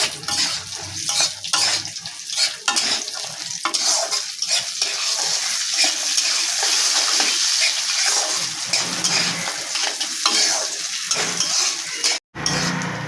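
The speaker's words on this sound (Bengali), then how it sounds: "বড়িগুলো ভাজতে ভাজতে করতে হবে ভালো করে" Lentil dumplings (bori) fry in hot oil for a vegetarian dish, a steady loud sizzle broken by repeated scraping stirs in the pan, ending with a brief clatter.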